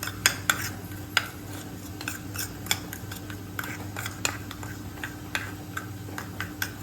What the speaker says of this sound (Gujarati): હવે આપણે બધી વસ્તુને મિક્સ કરી લઈશું